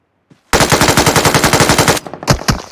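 Vector submachine gun fire in a video game: one loud, close burst of rapid automatic shots lasting about a second and a half, followed by a couple of separate single shots.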